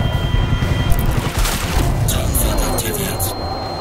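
Rocket launcher fired during Crysis 2 gameplay, a loud booming blast with crackling gunfire and explosion noise filling the scene, continuous dense combat sound with a sharp burst near the middle.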